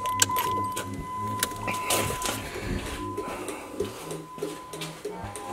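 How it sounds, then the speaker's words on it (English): Dodge SRT4 turn signal clicking with new tail lights: steady close ticking inside the car over a continuous tone and cabin rumble, with faint voices. "I never knew that they were that loud when I hit the blinker."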